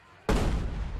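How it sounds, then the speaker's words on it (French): A single loud cannon shot from a TV show, booming in abruptly after near silence and rolling on with a broad, sustained rumble. "Coup de canon."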